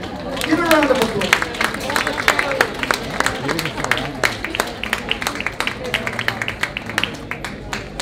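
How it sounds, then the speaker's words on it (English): A cabaret audience gives a round of applause, dense crowd clapping with sharp individual claps throughout, mixed with chatter and a singer's voice talking over it. "Give her a round of applause"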